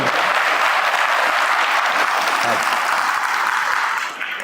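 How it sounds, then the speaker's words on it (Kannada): Audience at a Kannada religious discourse bursts into loud, sustained applause, a dense steady wash of many hands clapping that continues throughout and eases slightly only at the very end. "ನೋಡಿ ಎಷ್ಟು ದೊಡ್ಡದಾಗಿ ಚಪ್ಪಾಳೆ ಹೊಡಿತಾರೆ ಎಲ್ಲರೂ"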